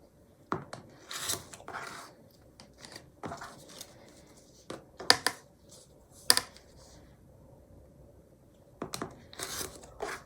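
Quilt fabric strips being trimmed along a marked line, with crisp intermittent cutting and rasping strokes coming in quick clusters between quiet pauses, close up and without talk.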